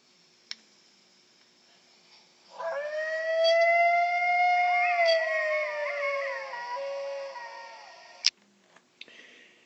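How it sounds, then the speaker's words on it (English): A long, wavering howl rises and bends through several harmonics for about five seconds, like a coyote calling across the desert at night; a few sharp clicks come before and after it in otherwise quiet surroundings. "if you ever hear Coyote's voice, way out in the desert at night"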